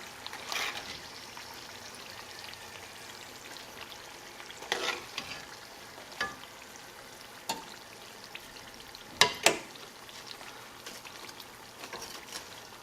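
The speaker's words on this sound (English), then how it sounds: "I'm going to continue frying them up" Panko-coated Korean mandu dumplings deep-fry in oil with a soft, steady sizzle, broken by a few brief clinks and splashes from handling in the pan.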